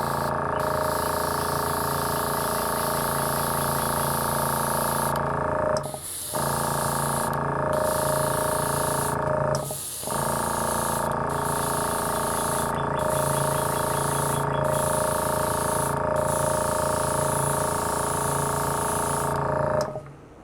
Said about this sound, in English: So put on a second coat.